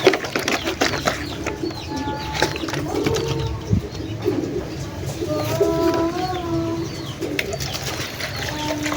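Racing pigeons cooing in a loft, several soft repeated coos close by over a busy background of shuffling, rustling and faint distant chatter.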